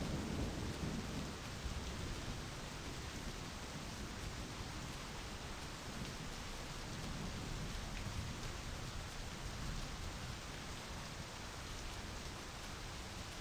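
Heavy rain pours without pause during a storm in My Summer Car, a broad constant wash of noise with deep thunder rolling low beneath it, with no one talking.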